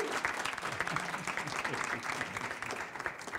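Steady audience applause fills the room at a storytelling event, dense clapping from a sizable crowd holding an even level throughout with no pause.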